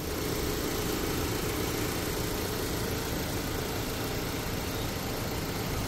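A 2023 Mitsubishi Xpander GLS runs at a steady idle, a constant low engine hum heard close and without talk.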